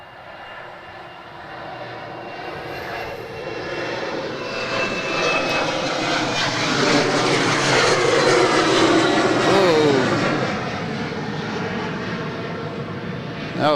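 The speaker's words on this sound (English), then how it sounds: "E190 is rolling" An Embraer E190 jet rolls for takeoff at Adelaide Airport, a sustained roaring jet engine heard from a distance that swells steadily to a peak and then eases slightly, with no talk over it.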